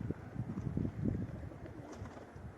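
Racing pigeons coo in soft, low, throaty bursts close by, with a faint breezy outdoor background and no talking.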